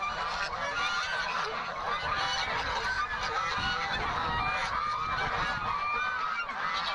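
Waterfowl calling outdoors in a dense chorus of honking cries, continuous and overlapping at moderate distance, with no talking.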